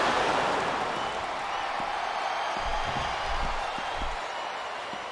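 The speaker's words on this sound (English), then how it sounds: "It's been a long time since I saw a crowd get behind a superstar the way they have for John Cena" The arena crowd in the wrestling video game WWE Smackdown vs Raw 2007 roars and applauds in a steady, dense wash of cheering, with scattered low thumps underneath.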